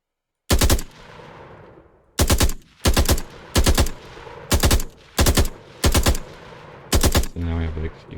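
Rapid bursts of automatic gunfire from a third-person shooter video game, about eight sharp, loud volleys spaced roughly half a second apart, each a quick rattle of shots.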